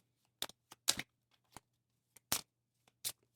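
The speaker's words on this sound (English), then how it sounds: "Okay, let's do some shuffling." Playing cards from a tabletop campaign game being shuffled in short, separate bursts of riffling and snapping, with quiet gaps between each pass; nobody speaks.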